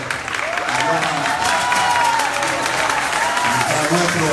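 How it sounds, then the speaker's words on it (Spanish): Audience applause at a Spanish-language Christian gathering, a steady wash of clapping filling the whole stretch with a faint melodic tone gliding over it, fairly loud and continuous. "que me le den un aplauso"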